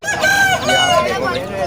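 A rooster crows loudly and close by at a bustling rooster and hen market, one drawn-out, wavering call filling the moment.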